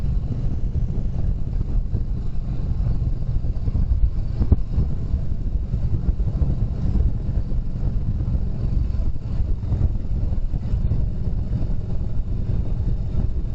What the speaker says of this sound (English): I love this motorcycle though. She's a cruiser.